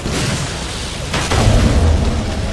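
A loud synthetic cannon explosion bursts out partway through in Halo 5: Guardians, Battle of Sunaion, followed by a heavy rumbling roar over dense game noise.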